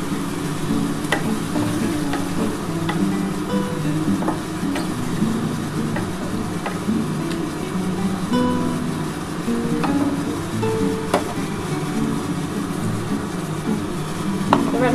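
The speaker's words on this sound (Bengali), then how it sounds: "এবার আমি অল্প করে একটু জল দিয়ে দিলাম" Steady, continuous frying sizzle of food in a cooking pan after a little water is added, bubbling and crackling up close with occasional clicks of stirring, no voices.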